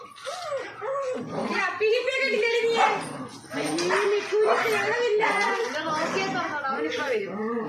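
A dog whimpers and yips in high, wavering whines, with short barks mixed in, while people talk nearby throughout.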